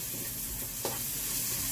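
Onion and garlic sizzle steadily in a pan for tuna sisig, a dense continuous frying hiss with one brief clink of stirring partway through, close and without talk.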